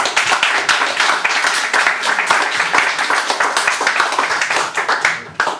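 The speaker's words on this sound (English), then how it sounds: "more applause please for Richard" Dense audience applause for a performer at a spoken-word show, steady and close throughout before tapering off at the end.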